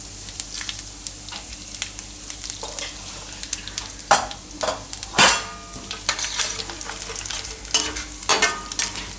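Asafoetida and whole cumin stirred into hot oil, a constant crackling sizzle broken by sharp spoon scrapes and clinks against the pan, fairly close, with no talking.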